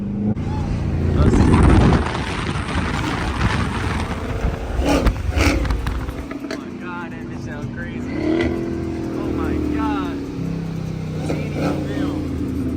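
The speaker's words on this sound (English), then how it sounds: "It has a full exhaust, extremely loud, and I'm gonna make sure y'all hear that thing" An 800-horsepower widebody Dodge Hellcat with a full exhaust roars loudly while revving and accelerating nearby, the engine swelling and falling through several surges, with people talking over it at times.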